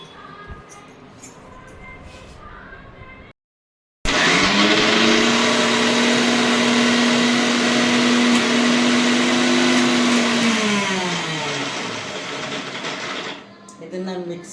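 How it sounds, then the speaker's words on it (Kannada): A kitchen mixer grinder blends raw mango chutney with coconut pieces, starting abruptly after a short silence and roaring loudly for about nine seconds with a high whine that drops in pitch before it winds down. "ಇದನ್ನು ನಾನು ಮಿಕ್ಸಿಗೆ ಹಾಕ್ಲಿಕ್ಕತ್ತೀನಿ."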